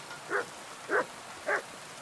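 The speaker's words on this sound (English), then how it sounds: "Wait, the dog was just barking." A dog in a video game barks three times at steady intervals, each bark short and mid-distance, over a soft hissing background with no talk.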